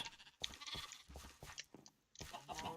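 Sheep in the Minecraft video game bleating in a few short, close, moderately loud cries separated by brief pauses, with no voices over them.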